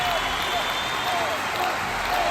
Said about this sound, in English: Round of applause for Hobbiton.